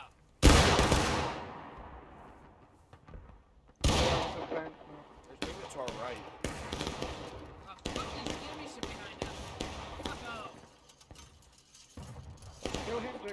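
Rifle volleys crack out in the War of Rights battlefield game, several loud massed blasts with rolling echoing tails, spaced seconds apart, with scattered shots and voices between them.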